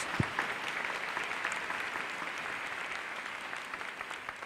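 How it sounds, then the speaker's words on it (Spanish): A church congregation claps during a Catholic Eucharist mass, a steady, fairly soft spread of many hands sustained throughout, with no voices rising above it. "un aplauso para Cristo"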